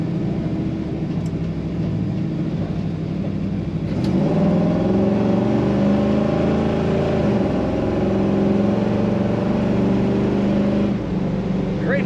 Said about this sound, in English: Great sound coming out of the back end of this car. Good acceleration.